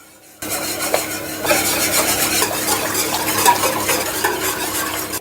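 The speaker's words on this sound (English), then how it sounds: "Take yourself a whisk and make it nice and creamy." Whisk beating crème fraîche into a pot of carrot soup, a continuous loud scraping and swishing against the pan that starts abruptly and keeps a steady busy rhythm throughout.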